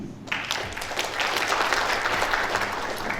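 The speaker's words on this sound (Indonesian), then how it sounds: "Sekali lagi berikan tepuk tangan kepada para tim yang dari Sorong untuk memberikan testimoni" An audience breaks into steady applause for the team from Sorong after their testimony. The clapping starts abruptly and holds as a dense, even patter throughout, with no talking over it.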